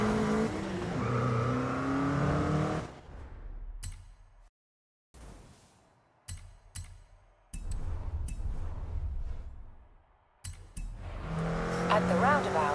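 Engine of a Ford Mustang driving in the Forza Horizon 5 racing game, loud and revving at the start and end, with quiet gaps and sharp clicks between, and game voices talking at points.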